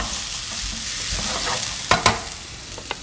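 Garlic and onion stir-fried in a pan for a seafood tomato-sauce spaghetti, a constant close sizzle broken by a few sharp scraping and clacking strokes of a utensil against the pan.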